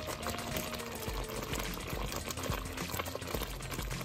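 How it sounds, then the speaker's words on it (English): Grits bubble and pop in a pot on a switched-off stove, a busy, continuous stream of small bursts close by, with no talking. "So I still got the stove cut off and it's still popping."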